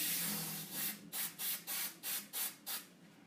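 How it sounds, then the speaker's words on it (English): Sharp hissing bursts of an aerosol spray adhesive, a long initial hiss followed by about seven short, evenly spaced pulses, close and loud. "I want all those details to come out nicely, so I use this spray adhesive."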